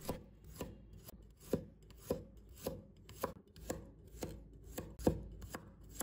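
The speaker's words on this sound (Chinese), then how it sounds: "接下来我们再准备一把大蒜，把它切成片" A knife slicing a handful of garlic cloves on a cutting board, with about a dozen crisp, evenly spaced chops in a steady rhythm, close and clear with no talking.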